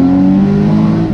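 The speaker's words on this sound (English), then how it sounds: "Oh, it pops on the upshifts as well." A Porsche Boxster Spyder with a manual gearbox runs loud and close, its engine tone steady and droning, with pops on the upshift.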